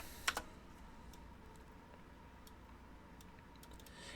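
Faint clicks from a computer keyboard, a couple of sharper keystrokes at the start followed by sparse, light taps against a quiet room background.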